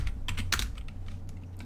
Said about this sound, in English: Sorry about my keyboard making loads of noise